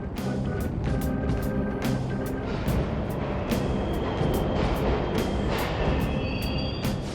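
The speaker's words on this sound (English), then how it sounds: "The trains are totally running!" Subway trains in Persona 5 Royal rumble along in a steady low mechanical drone, with a faint rhythmic clatter of regular ticks and thin high squeals over the continuous roar.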